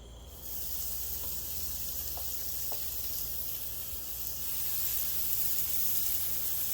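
Hamburgers sizzle on a Blackstone 22 inch griddle, a steady close hiss that begins abruptly and carries on throughout, swelling slightly louder near the end, with a few faint clicks of a spatula.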